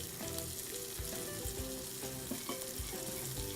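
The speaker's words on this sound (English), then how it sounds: "In the meantime, let's stir our crisp." A crisp topping is stirred in a frying pan while pork medallions cook, giving a steady close sizzle broken by light scraping stir strokes, with no voices.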